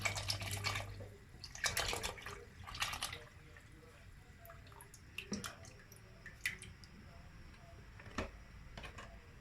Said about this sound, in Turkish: Bir litre süt tamamen hepsini dökelim.